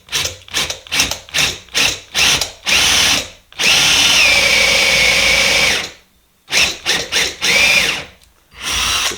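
A power drill bores a round hole for a nut and washer through a sculpture base fixed to a sacrificial board, running in loud close bursts: several short pulses, a long sustained grind, a pause, then more short bursts.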